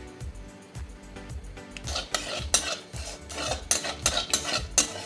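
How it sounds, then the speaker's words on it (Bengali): Whole bay leaf, dry red chili, cumin, nigella and a few fenugreek seeds crackle in hot oil in a pan for a Bengali fish curry, with repeated scraping and stirring strokes and metal clinks rising over the sizzle. "এবার দিয়ে দেবো একটা ফোড়ন, তেজপাতা, শুকনো লঙ্কা, সাদা জিরে, অল্প একটু কালো জিরে আর 2-4 দানা মেথি"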